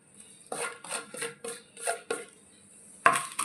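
Soya nugget mixture with coriander and mint being stirred in a bowl: a run of close clinks and scrapes of a spoon against the dish, in uneven strokes, ending in a sharper knock, with no talking.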